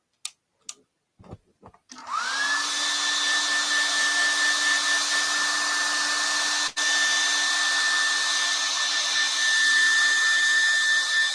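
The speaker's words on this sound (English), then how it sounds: "I need to dry that. So I need my hairdryer plugged in." A few brief clicks and knocks, then a hair dryer switches on and blows with a steady, loud whine, briefly cutting out once before resuming.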